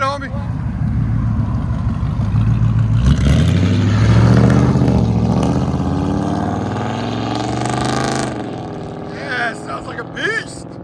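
A 1985 Chevy Monte Carlo with a 305 V8 on true dual straight-pipe exhaust idles loud and close, then revs up hard in a rising roar before settling back to a rough, lumpy idle.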